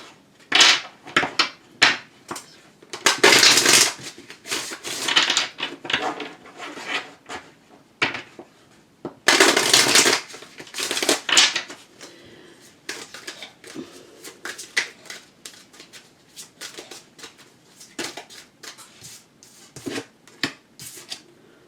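Tarot cards being shuffled and handled by hand, in repeated riffling bursts of crisp rustling with pauses and lighter taps between, close to the microphone.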